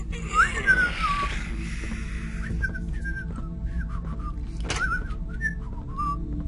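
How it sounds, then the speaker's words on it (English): A person whistling a meandering tune of short, separate notes inside the game Thief: Deadly Shadows, moderately loud over a low background hum, with a brief sharp click partway through. "See, I can whistle better."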